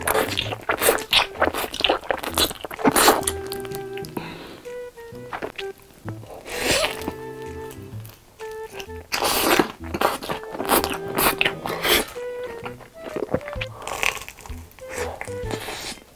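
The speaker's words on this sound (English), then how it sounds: "He eats so fast and also good at taking big bites." A mukbang eater bites and chews food loudly up close, with repeated sharp crunches and wet chewing bursts interspersed with brief voiced tones.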